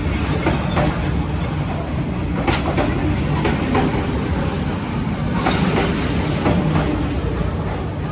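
A train rumbling past at very close range in Hanoi, with a loud continuous roar and clickety-clack of wheels on rails, steady throughout with no talk.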